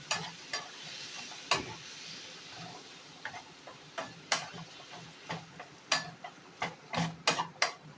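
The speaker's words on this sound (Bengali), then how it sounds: "দিয়ে এবার আমটাকে ভালো করে কষিয়ে নেব।" Mango with green chilli, nigella seeds, turmeric and salt sautéing in a pan for a sour fish-roe dish, with sharp spatula taps and scrapes in an uneven rhythm over a low, quiet sizzle.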